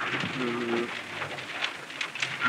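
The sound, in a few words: heavy rain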